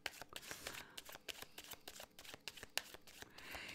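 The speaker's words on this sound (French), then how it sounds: "je vais rajouter 2 cartes" Tarot cards being shuffled and laid down, a close, quiet run of crisp riffles and soft flicks in an irregular rhythm with no speech.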